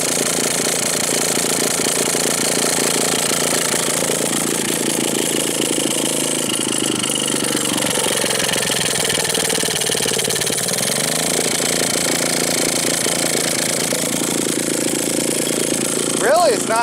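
A restored Maytag model 72 washing machine's small gasoline engine runs with its muffler fitted, a loud steady close putter at a slightly high idle, holding constant throughout with a slight change near the end.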